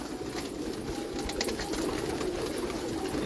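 Pigeons on a rooftop in Pakistan, with soft cooing and bird calls heard steadily over constant outdoor background noise throughout, and no talking.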